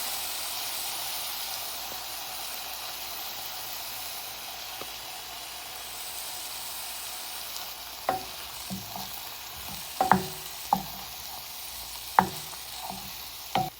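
Aromatics and squeezed-in tomato paste fry in a pan for a cottage pie, with a steady soft sizzle throughout and a few sharper scraping stirs of a utensil toward the end, with no talking.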